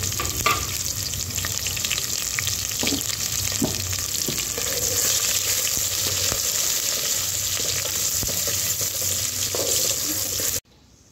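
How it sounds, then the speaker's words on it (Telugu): Green chillies and onion hit hot oil with fried whole spices, a loud continuous sizzle and crackle with occasional stirring, for a mutton curry pulao; the sound cuts off abruptly at the end. "మసాలా దినుసులు ఫ్రై అయిన తర్వాత పచ్చిమిర్చి, ఉల్లిపాయ అయితే వేసుకుంటున్నానండి"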